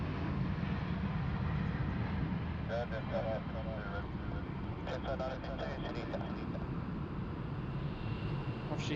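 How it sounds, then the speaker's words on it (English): An Airbus A350 moves at Sydney Airport, a low steady jet rumble running throughout, with faint radio-like chatter and brief tonal blips appearing over it midway. "Well, here she comes. A bit of A350 action there for you folks."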